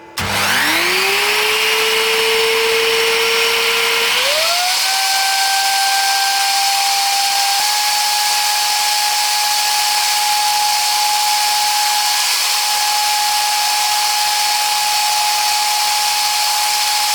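A CNC router spindle motor spins up to about 14,000 RPM, a steady high-pitched whine that rises in two steps and then holds level for a long stretch over a broad hiss. No one speaks.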